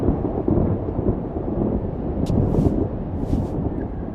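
Thunderstorm in the video game Life is Strange Double Exposure: a steady, loud wash of rain and rumbling thunder fills the scene, with a few brief crackling bursts breaking through near the middle and end.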